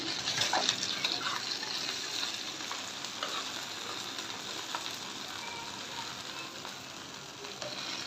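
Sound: mirka and eel fish frying in oil

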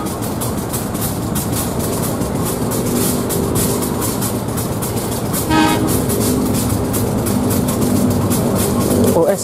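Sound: Sri Tanjung passenger train passing with horn

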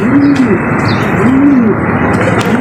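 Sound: pigeon cooing

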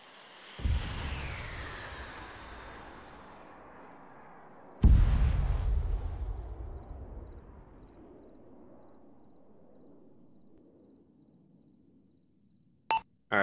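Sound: laser-guided bomb explosions in Arma 3 video game

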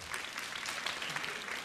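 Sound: audience applause at a concert

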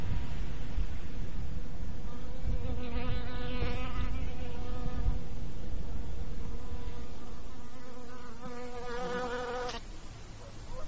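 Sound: bees buzzing around blooming crocuses

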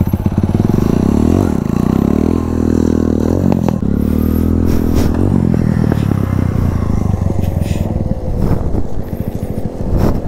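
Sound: motorcycle engine revving with throttle during wheelie

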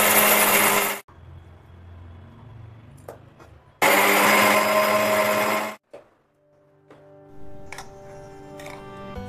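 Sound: mixer grinder grinding lightly fried chilli mixture

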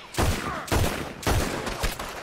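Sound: gunfire in the video game Red Dead Redemption II

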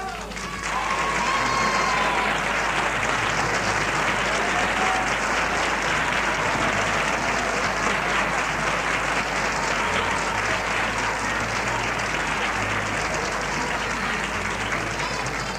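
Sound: audience applause for Candela

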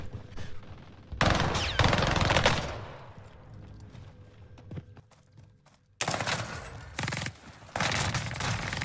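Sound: PPSh submachine gun firing in video game Call of Duty Warzone

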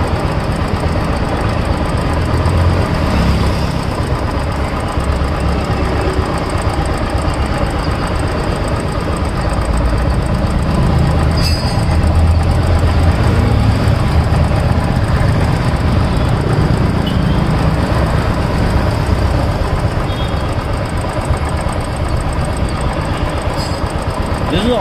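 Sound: car engine heard through a mechanic's stethoscope

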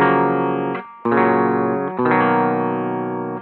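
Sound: electric guitar chords played one at a time

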